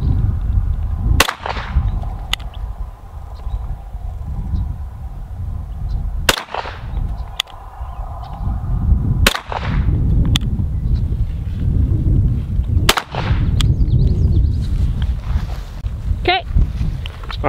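Gunshots from a Sig P320 pistol fitted in a CAA MCK micro conversion kit: four sharp, loud reports spaced a few seconds apart at an outdoor range, with faint talk and background noise between them.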